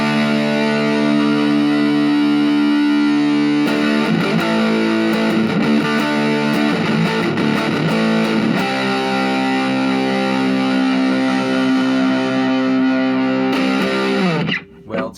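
An electric guitar through a Boss MD-2 Mega Distortion pedal with the gain boost turned off sustains thick, buzzy distorted chords, then pauses briefly near the end. No one speaks over it.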